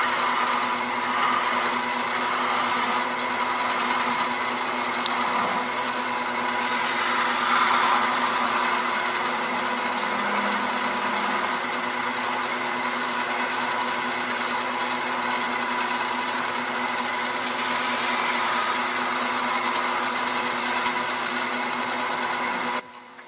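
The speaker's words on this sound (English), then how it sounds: "Light, delicate cuts, because there's not a lot holding this on that jam chuck." A wood lathe spins a piece held on a jam chuck while light, delicate cuts are taken, giving a steady, continuous motor whir with a faint scraping texture throughout.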